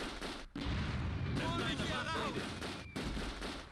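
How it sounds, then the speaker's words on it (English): Mortar rounds fire and land in the war game Close Combat II, giving rumbling booms and blasts under a steady low backdrop while a voice talks over them. "Okay, mortars on there."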